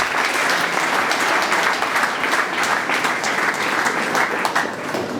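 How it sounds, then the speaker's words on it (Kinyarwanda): Steady, dense applause from an audience at a school awards ceremony in Kibogora, Rwanda, sustained and fairly loud throughout without a break. "Deje w'ibitaro byacu bya Kibogora, mumfashe tumukoma amashyi tumushimire."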